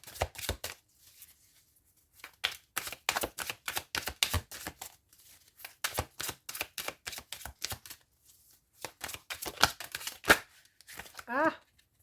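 Tarot cards are shuffled and drawn, making a series of quick papery flicks and riffling bursts in irregular clusters, close and crisp, with a short rising slide near the end.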